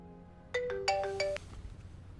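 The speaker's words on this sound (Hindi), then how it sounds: "पर तभी थोड़ी देर बाद प्रियंका का फोन बज उठता है" A mobile phone ringtone for an incoming call: a short, bright electronic melody of several quick tones, clear and close in a quiet room.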